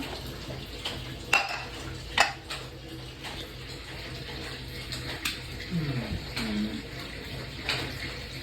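A large metal pressure cooker is washed with water in a home kitchen, with sharp metallic clanks and knocks of the pot at irregular intervals over a steady wet splashing hiss, close and moderately loud.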